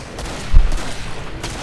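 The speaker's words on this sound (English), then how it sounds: "I'll leave it on fully auto and just tap for semi-auto" Semi-automatic gunfire in Killing Floor, a few loud close shots with a thumping low-end hit in the middle, under ongoing game noise.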